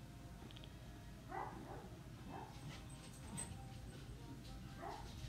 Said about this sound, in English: My dog is still barking in the background, no problem.